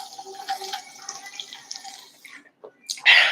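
Water being poured for a drink, with faint liquid and clinking sounds that end in a brief, louder splash of pouring.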